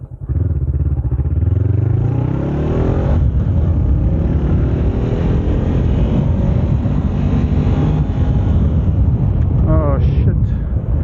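A Honda CBR 500R motorcycle is ridden with a loud, steady engine drone, rising and falling in pitch as it accelerates, mixed with heavy wind rush against the microphone.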